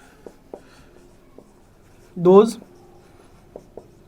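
Writing on a board during a chemistry lecture on coordination compounds: faint, sparse taps and ticks of the writing tool, with a brief voice sound partway through.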